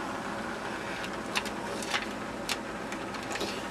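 A knitting machine knitting one row with extended needles: a steady mechanical whir with faint, regular ticks as the carriage travels, soft and continuous.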